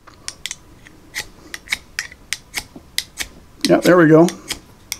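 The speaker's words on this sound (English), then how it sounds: "the more you scrape on that, get some of that paint stuff off, that'll make it even better. But you do get your spark, so there's your fire starter." Ferro rod fire starter scraped along the serrated blade edge of a new, paint-coated survival shovel, giving a rapid series of short, sharp rasping strokes close up, then someone speaks briefly near the end.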